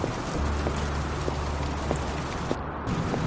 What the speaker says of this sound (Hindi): देखिए ना, बारिश रुकने का नाम ही नहीं ले रही।